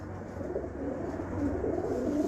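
Breeder pigeons coo softly in a shaded loft, a low, murmuring warble that carries on without a break and swells slightly toward the end, with no voices.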